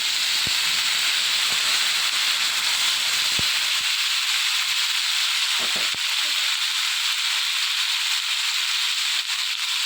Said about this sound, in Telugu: వేగిన తర్వాత ఉడకబెట్టి పక్కన పెట్టుకున్న శనగలు మొత్తం ఇందులో వేసుకోవాలి